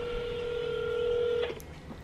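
A telephone call tone holds steady and clear for about a second and a half, then cuts off abruptly, leaving quiet room noise. No one speaks.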